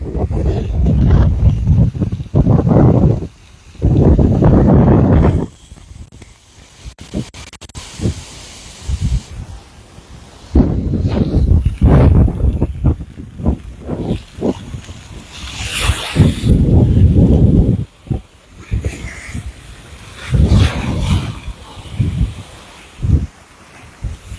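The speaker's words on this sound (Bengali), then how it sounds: "প্রচুর জলশ্বাস এবং প্রচুর তুফান লক্ষ্য করা যাচ্ছে" Strong storm wind of Cyclone Remal roaring in loud buffeting gusts that batter the microphone, surging and dropping repeatedly, with a water-like rushing underneath.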